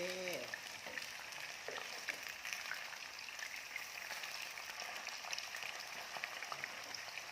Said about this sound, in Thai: อันนี้ ทอด เพื่อให้เขานุ่มนะคะ